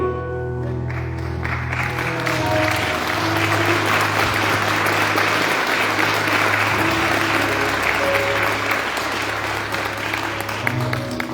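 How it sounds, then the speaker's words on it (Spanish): A church congregation applauds loudly and steadily, dense sustained clapping filling the whole stretch, with a low organ or keyboard chord held underneath. "¿Qué ustedes creen si lo damos con más intensidad este aplauso de que Jesús ha tocado nuestro corazón y nuestra vida?"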